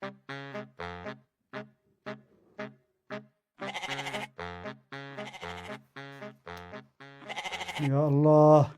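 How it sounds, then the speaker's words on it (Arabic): A sheep bleats repeatedly in short, nasal, wavering calls with gaps between them, loud and close, ending in a longer drawn-out bleat. "تسمعين صوت الخروف؟"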